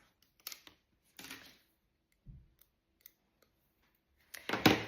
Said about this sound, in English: you're going to peel off the adhesive backing of the mailbox.